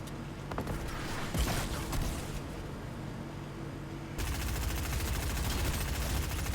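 Bursts of gunfire in the video game Fortnite, with loud crackling shots in the first seconds, a quieter stretch, then a denser barrage in the final couple of seconds.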